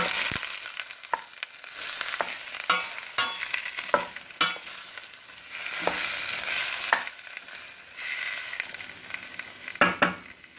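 Steady hiss and crackle of chopped red peppers frying in hot oil, with repeated clacks of a spoon stirring the pan throughout.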